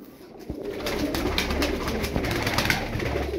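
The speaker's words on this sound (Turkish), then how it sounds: "Gördünüz patır patır oynuyor kuş." Cincik tumbler pigeons coo softly and continuously at close range, while scattered sharp wing claps and flapping cut through the steady cooing.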